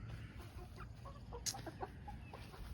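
Bantam hens, a blue Bantam Cochin and two Bantam Buff Orpingtons, clucking softly in a backyard coop, scattered short clucks close by over a low outdoor background.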